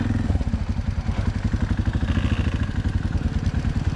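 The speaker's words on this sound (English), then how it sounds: "Leo nitasukuma hii bike." Up close, a CFMOTO NK250 motorcycle engine runs at a steady, rapid pulsing idle, loud and even with a slight mechanical clatter.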